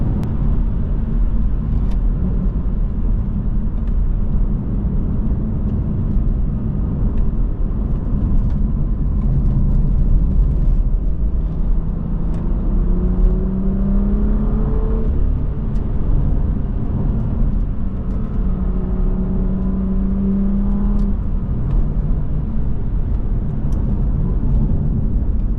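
A BMW M5 V10 engine drones steadily from inside the cabin with Active Sound Designer switched off, a constant low rumble with faint rising tones as the revs climb and ease.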